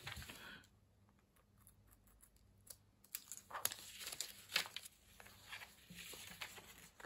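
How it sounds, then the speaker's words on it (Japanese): A utility knife cuts a round piece out of paper for a simple paper camera craft. The faint scratchy strokes and crinkles are uneven and come close up, with no voices. "この丸い部分をカッターで"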